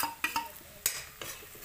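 Turmeric and spice powder are stirred into chillies frying in a pan, heard as several quick scraping strokes of a spoon against the pan over a faint sizzle, with no voices.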